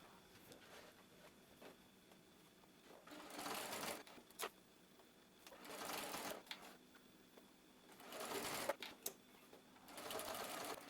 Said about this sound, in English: I'm going to do 2 basting stitches, one about 1/4 of an inch from the side, another about 3/8 on both sides